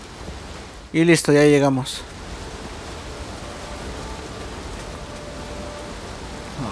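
Steady hiss of rain pours continuously in the background of the video game Uncharted 4: A Thief's End, while someone speaks briefly near the start.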